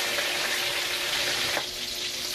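Fatty pork marinated in vinegar, salt, garlic and pepper frying in hot oil, a loud steady sizzle with crackling spatter throughout and no voices.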